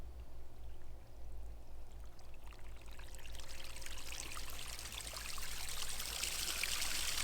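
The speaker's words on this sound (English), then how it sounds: "There we go, there comes the water." Water gushes from a freshly cleaned pond waterfall filter in the UK, a steady loud pouring stream that builds and brightens as the flow picks up, with no voices.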